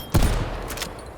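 A Swiss K31 sniper rifle fires once in Call of Duty Cold War, a single loud, sharp report with a short rumbling tail that fades over about a second, with no voices.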